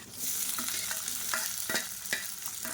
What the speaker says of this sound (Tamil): இப்போ இது கூடவே வெங்காயம் பாருங்கள் நல்லா வதங்க ஆரம்பிச்சிருச்சு